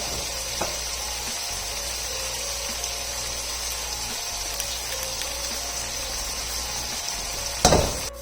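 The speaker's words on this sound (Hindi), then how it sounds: "बिरयानी की इस पॉइंट पे हमने अच्छी सी भुनाई करनी है" Chicken biryani with biryani masala fries in a pot with a steady, even sizzle throughout, a light scrape near the start, and a brief louder clatter of stirring near the end.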